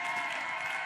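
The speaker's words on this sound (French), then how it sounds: "Est-ce que je peux avoir une main d'acclamation maintenant?" Church congregation applauding, a dense, steady wash of many hands clapping at moderate distance, brief and uninterrupted.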